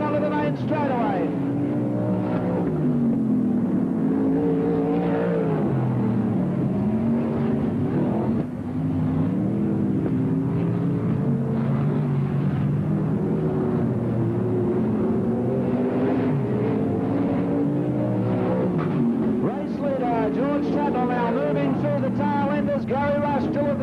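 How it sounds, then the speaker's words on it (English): Sprint cars with airfoils racing wheel to wheel on a speedway in the 1980s, a continuous droning engine roar with rising and falling pitch as cars pass, heard under steady race commentary. "It's wheel to wheel, airfoil, and the new race leader is Tatnell"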